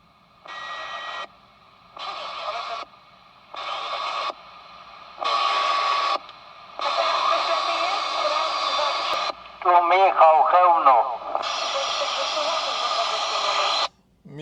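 Short static-edged transmissions from a PMR walkie-talkie during an emergency communications test, separated by pauses, then longer ones with a garbled voice coming through the radio.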